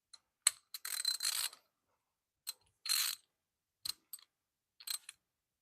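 Ratchet with a 10 mm deep socket loosening spark plug coil bolts on a 2005 Chrysler 300 engine, heard as close, crisp bursts of rapid clicking separated by quiet gaps.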